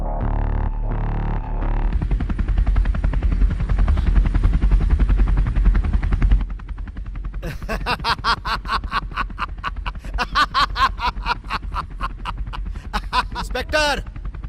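A helicopter drones loudly with a low, steady roar for several seconds, then its rotor chop continues under rapid pulsing and excited voices and laughter.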